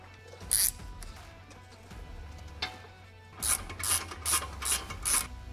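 A ratchet wrench tightens a 12 mm bolt on a Tesla Plaid big brake kit caliper, with a short burst of sharp clicking followed later by five quick, loud ratcheting bursts in a row.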